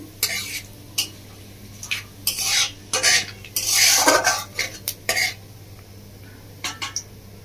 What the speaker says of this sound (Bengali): ভালো করে ফোড়নটা ভেজে নেব।